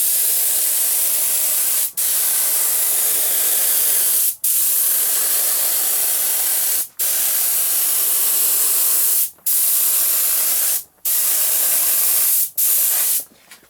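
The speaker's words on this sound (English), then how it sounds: "I've already sprayed the inside. And I'm using lacquer." Aerosol can of Deft satin lacquer sprayed onto a segmented wood-turned lamp, heard as a loud, steady hiss broken into several long bursts by brief pauses.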